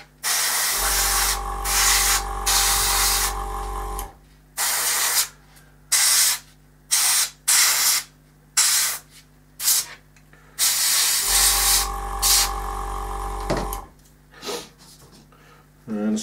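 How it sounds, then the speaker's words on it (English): Bursts of aerosol spray paint hiss as a base coat goes onto a scale model cockpit tub, long blasts alternating with short rapid puffs and brief pauses between, close and loud. "it's literally just hitting it from all angles and making sure you get a good base coat on your cockpit tub."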